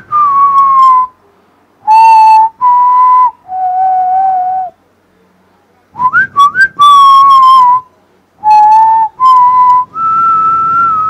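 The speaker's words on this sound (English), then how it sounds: "was either humming or whistling this tune" A person whistles a melody alone, clear and close, in short separated phrases with brief pauses between them.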